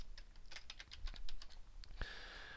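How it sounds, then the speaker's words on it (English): A run of quick, uneven keystrokes on a computer keyboard while someone enters first and last names into a spreadsheet column, close and fairly clear, with no talking. "So, of course, we would just start typing."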